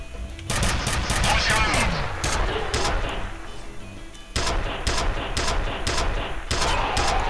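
Rapid weapon fire in the video game F.E.A.R. comes in dense, loud bursts of automatic shots with short pauses between them, mixed with game effects and a voice talking underneath.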